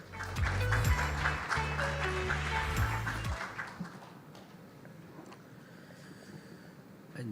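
An audience at a trade and maritime summit session applauds to welcome a speaker to the podium, with loud clapping for about three seconds that then fades into quiet room noise.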